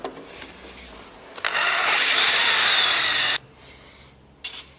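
A drill countersinking fixing holes during the installation of an FA010 unit with an internal fixing ring, one steady grinding burst of about two seconds between quieter handling noises.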